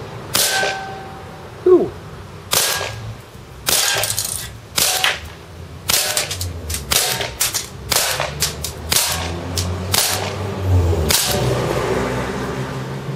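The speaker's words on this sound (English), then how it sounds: "so it's time to shoot a can. We're about 10 feet away. So, first, let's go semi-automatic." A KWC Desert Eagle CO2 pistol fires semi-automatic at a can about 10 feet away, giving a series of sharp, loud snapping pops at irregular intervals, some with faint metallic clinks, with a brief exhale at the start.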